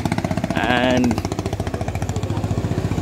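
A parked motorcycle on a road trip thumps away at idle close up, its rhythmic pulsing loud and steady throughout, with someone speaking briefly over it.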